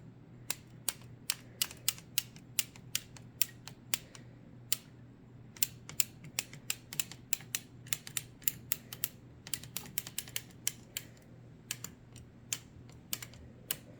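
A circular sock machine is cranked slowly by hand while knitting a wrapped heel, giving a steady run of sharp, close clicks and ticks over a low hum, with no talking.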